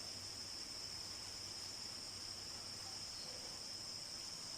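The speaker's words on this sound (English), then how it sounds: "You hear the crickets cricketing" Crickets chirp at night in the video game Half of the Analyzed, a steady high-pitched trill that never lets up, faint under a soft background hiss, with no voices.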